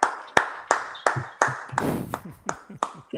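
Slow, deliberate hand claps from a Man United fan celebrating a long-awaited Premier League win, about nine sharp claps spaced roughly evenly, close and moderately loud, with some voices murmuring between them.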